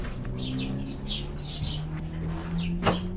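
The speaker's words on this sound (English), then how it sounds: "These birds are everywhere." Small birds chirping inside a tire shop, a string of quick, bright tweets repeating through the space with a low steady hum underneath and no talking.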